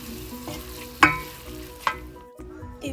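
Hotel chili being stirred in a pot, a spoon scraping and clinking against the sides with a couple of sharper knocks over a low, steady background.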